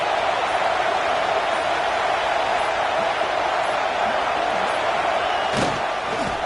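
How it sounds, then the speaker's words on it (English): A stadium crowd at a college football playoff game between Texas A&M and Iowa roars steadily on a first-and-goal snap, a constant loud wash of noise with a brief sharp thud near the end. "This offense trying to quieten the crowd on 1st and goal, and they are not cooperating."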